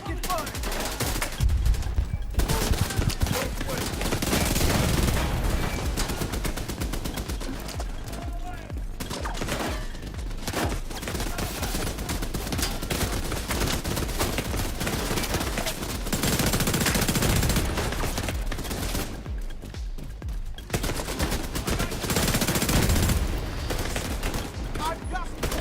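Sustained gunfire rattles through combat in The Division 2, with dense automatic bursts and scattered shots running almost nonstop, and occasional voices in the mix.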